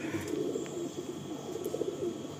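Andhra pigeons in a loft give faint, soft cooing and low murmuring over a quiet background, with no talking.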